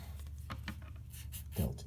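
A pen or marker scratches out a few short, quiet strokes while someone writes a physics expression for average velocity, close and soft.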